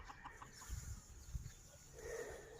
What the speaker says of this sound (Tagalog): Daming alagang manok dito.